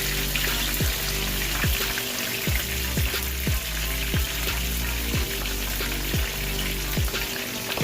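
Fish sizzles steadily in hot oil for a soul food fry, a dense crackling hiss throughout with regular low knocks, likely from a pan or utensil, and no talking.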